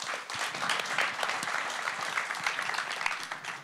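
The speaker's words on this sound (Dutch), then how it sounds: "Geef een groot applaus aan Martin Guit." Audience at a Rotterdam mobility talk show breaking into applause, a dense, lively burst of clapping from a sizeable crowd that continues steadily for a few seconds with no voices over it.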